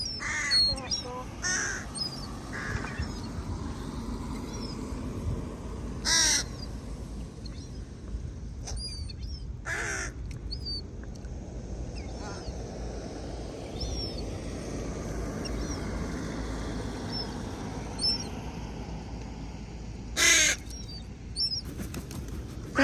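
Crows caw in a series of loud, harsh calls near the microphone, mixed with wingbeats and a steady outdoor background that includes some talking.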